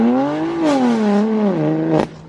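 BMW M4 fitted with aftermarket mid pipe and downpipe, its exhaust note rising and falling through a couple of gear changes, with sharp crackling pops between shifts; loud and close, no speech.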